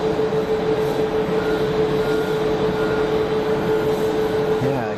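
An Airbus airliner brakes hard on the runway after landing at Geneva Airport, heard as a continuous loud roaring rush with a steady tonal whine that holds throughout.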